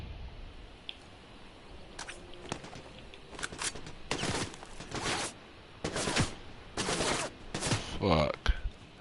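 Rifle gunfire in a video game cracks in scattered bursts, single sharp shots and short volleys at irregular intervals, fairly close amid low background noise.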